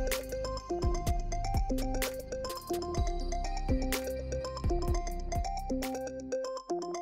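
A phone rings with an incoming call from Devan, playing a loud, repeating melodic ringtone of bright plucked notes that cycles steadily before cutting off near the end.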